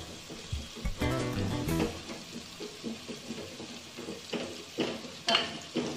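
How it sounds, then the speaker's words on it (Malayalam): Kashmiri chilli powder is stirred as it heats in a pan for Trivandrum-style fish curry, giving a soft close sizzle with intermittent scraping stirs and occasional light clinks. "ഞാനൊരു 2 സ്പൂൺ മുളക് പൊടി ഇതിലോട്ടിട്ട് ജസ്റ്റ് ഒന്ന് ചൂടാക്കുക."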